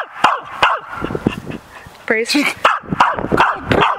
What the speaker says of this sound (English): We got some barks.